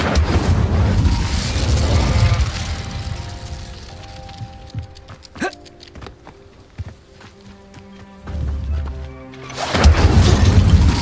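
Spell blasts from Confringo and Incendio burst in Hogwarts Legacy, loud booming impacts and crackling crashes at the start and end with a sharp hit near the middle, separated by quieter game ambience.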